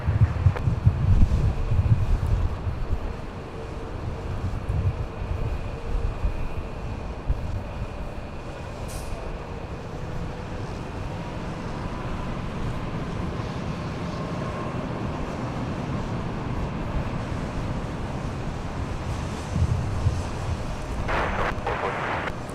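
Southwest flight 946 takes off at Los Angeles International Airport, a steady broadband jet roar with wind buffeting that stays fairly even throughout, heard from a distance with no talk over it.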